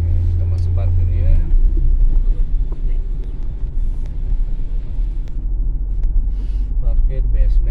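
A car rolls down into the basement parking of a mall in Bogor, its engine a loud, steady low rumble with road noise throughout, and voices talk over it.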